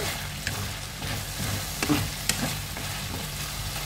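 Green hot pepper sizzles in a frying pan with a steady, moderate crackle. Light stirring clicks and scrapes sound close by, and no one speaks.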